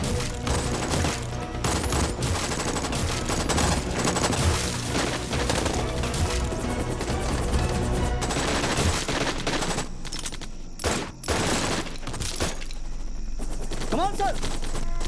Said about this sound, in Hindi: एनिमी की बहुत हैवी फायरिंग हो रही है